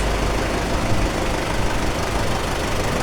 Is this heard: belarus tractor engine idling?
yes